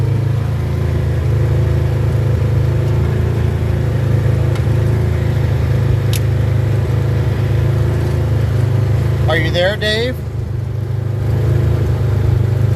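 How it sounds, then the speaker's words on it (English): A RZR side-by-side drives on a beach, its engine a steady, loud drone throughout with broadband wind and surf noise; a brief voice is heard near the end. "But either way, we're driving on the beach."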